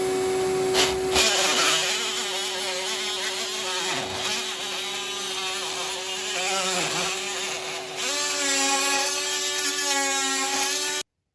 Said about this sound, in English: I'm still chasing in these walls, and what a mess it makes with the lather and plaster